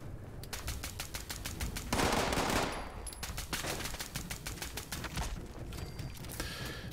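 A Bloodied Cryolator fires in rapid, evenly spaced bursts in Fallout 76, a steady chattering stream broken by a brief hissing blast, then resuming its quick rhythmic pulses, fairly close and without voices.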